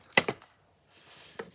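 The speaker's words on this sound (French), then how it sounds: "Avec la paire de ciseaux." Scissors cutting a paper embellishment for a craft project: two crisp snips close together near the start, a quiet pause, then one more softer snip, all close and without talk.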